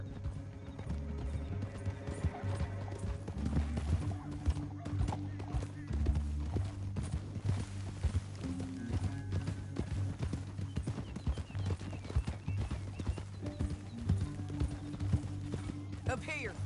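Horse hooves clip-clop steadily through a Red Dead Redemption 2 ride, with occasional whinnies, mixed under in-game character dialogue and a low music bed.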